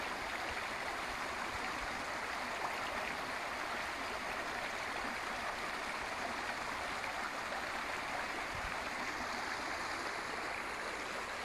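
A natural stream of flowing water rushes steadily and evenly, a soft continuous broadband wash with no pauses, voices or other sounds over it.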